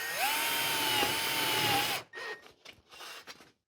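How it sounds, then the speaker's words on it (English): A reversible magnetic nut driver whines steadily for about two seconds while driving a screw into sheet metal duct, then stops, followed by a few short clicks and metallic handling sounds close by. "in order to screw this together, we've got a reversible magnetic nut driver."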